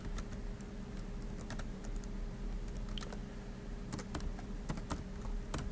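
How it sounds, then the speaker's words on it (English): Steady, close typing on a computer keyboard as header text is entered, with quick irregular key clicks and occasional louder strikes over a low constant hum. "You can type text up here. I'm just going to say"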